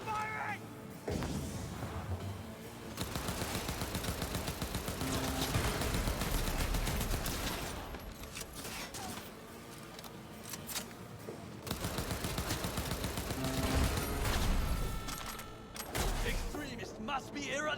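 Sustained gunfire in Cyberpunk 2077: long, dense rattling volleys that keep going with brief pauses near 8 and 11 seconds, with in-game voices shouting under the shooting.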